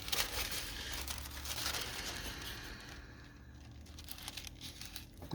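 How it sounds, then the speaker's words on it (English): Tissue paper crinkles and rustles steadily while being handled for gelli plate printing, a soft, continuous papery crackle close by with no talk. "I'm going to grab a piece of the tissue paper for this one."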